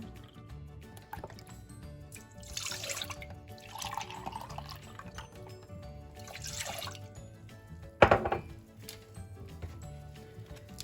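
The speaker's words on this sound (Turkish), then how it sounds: "Sütümüzü alıyoruz muhallebimiz içinde." Milk being poured for a pudding, with several soft bursts of liquid splashing and trickling into a pot, then a sharp clink of a container, set against a quiet kitchen background with no talk.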